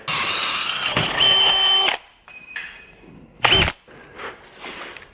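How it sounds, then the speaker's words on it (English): A unibit step drill bit bores a hole, stepping up toward 1 inch, during a kart build. Two loud bursts of whirring drilling with grinding are broken by short pauses, then a brief spin and softer clicks. "we're going to use a unibit and just step our way up to 1 inch"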